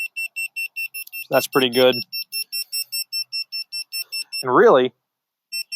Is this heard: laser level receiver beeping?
yes